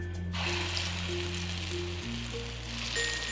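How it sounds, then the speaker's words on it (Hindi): Pakoras fry in hot oil in a kadhai, a soft, steady sizzle and crackle heard close up, with a low hum underneath and no talking. "ये पकोड़े फ्राई कर लेते हैं।"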